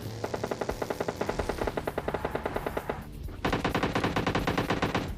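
Video game gunfire: rapid automatic bursts of loud, close shots in a steady rattling rhythm, a brief pause, then another sustained burst, with no talking.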